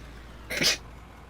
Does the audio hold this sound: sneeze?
yes